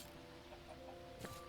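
Minecraft modpack chickens cluck faintly, a few soft calls over a low steady background hum with a brief louder rustle near the end, no talking.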